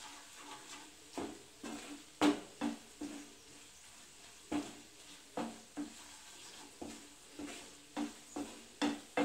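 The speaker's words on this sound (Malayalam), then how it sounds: "ഒരു മിനിറ്റ് ഒന്ന് ഇളക്കി കൊടുക്കേണ്ടി വരും" Green chillies frying in a pan for gooseberry pickle, stirred with a spoon that scrapes and taps the pan in a steady series of quiet strokes over a faint sizzle, close by with no voices.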